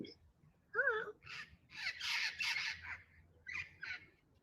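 Pet parrots let out a series of harsh, raspy squawks at close range, with several bursts in quick succession followed by two shorter calls after a brief pause.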